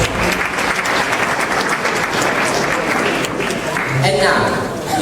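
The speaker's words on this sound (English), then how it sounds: "A round of applause to them, please" Audience applause for the judges at a live innovation competition event, a dense, steady clapping throughout with a swell near the end, while a voice talks over it.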